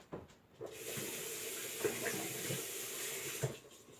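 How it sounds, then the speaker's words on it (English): Tap water runs steadily into a kitchen sink while hands are washed, a continuous close hiss with small splashes and clunks, no talking. "Hold on, I can wash my hands a little bit."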